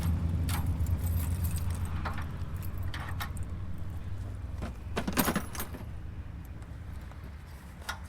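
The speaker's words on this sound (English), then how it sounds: "You're going to unlock your lock here." Keys jingle and click against a trailer sway bar lock as it is unlocked, a few metallic taps over a steady low hum of a nearby vehicle.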